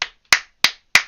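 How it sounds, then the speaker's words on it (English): Four sharp, evenly spaced hand claps ring out alone and close up, applause at half time during a live watchalong of an Aston Villa 4-0 Brentford football match. "that is going to be the biggest amount of applause I'll ever get."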